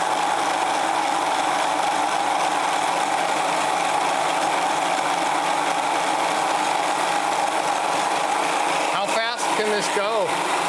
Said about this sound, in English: This motor can do about 885 RPM. With these rollers on here, I don't really want to try much faster.